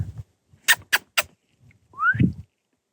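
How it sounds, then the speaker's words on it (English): A marmot, also called a whistle pig, gives a single sharp rising whistle outdoors near Stevens Pass on the Pacific Crest Trail, following a few soft thuds and rustles, with no talking. "Another name for marmots are whistle pigs because they're known for whistling."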